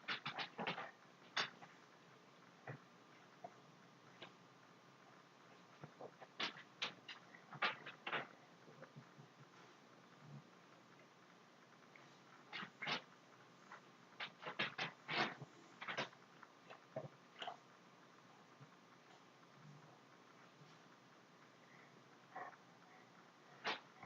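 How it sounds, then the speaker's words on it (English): A dog paces around a room during a recording session, giving faint scattered footfalls and soft sniffing or whimpering sounds, alone, in irregular bursts throughout. "I have a dog pacing around and a cat meowing"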